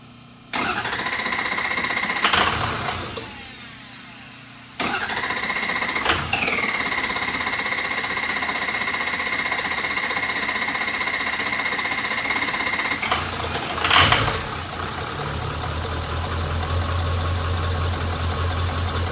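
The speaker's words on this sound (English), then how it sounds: "I'm gonna start it up, and it might take a few cranks, but we'll see what she fires." A Ford F250 with a 6.0 diesel engine and a stage 2 high-pressure oil pump cranks with a rapid rhythmic starter chatter, catches, and settles into a loud, steady close-up idle, with a second crank and rev burst later.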